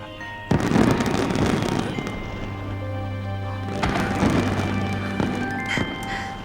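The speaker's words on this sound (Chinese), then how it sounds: "好漂亮的烟花" Fireworks burst in a celebration, a string of sharp cracks and pops with crackling bursts over a continuous rumbling backdrop, loud and fairly close.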